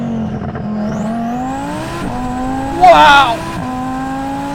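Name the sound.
1000 hp twin turbo Audi R8 accelerating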